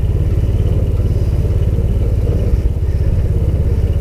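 A Taylor Dunn B6-10 burden carrier utility vehicle driving along a road, a steady loud low engine drone with rattling clatter, close and continuous.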